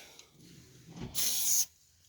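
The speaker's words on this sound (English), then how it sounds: "go ahead and respray it" Adhesive spray hissing onto fabric used to wrap a car mirror and door handle cover: a quiet rustle, then one close, loud spray burst lasting about half a second.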